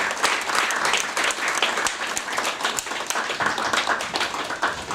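A crowd at a 40th-anniversary ceremony of a children's evangelism association branch in Cheonan claps steadily throughout, a dense, even patter of many hands at moderate volume with no talking.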